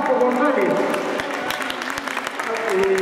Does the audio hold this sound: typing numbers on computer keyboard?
no